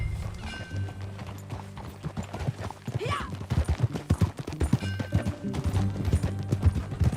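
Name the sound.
horse hooves galloping, from a video game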